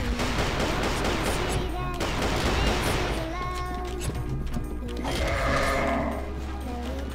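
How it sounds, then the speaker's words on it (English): Rapid rattling bursts from a Gatling gun in the video game CF West, dense continuous firing for several seconds with a gap and then another stretch, loud amid game effects. "Thanks for the Gatling gun."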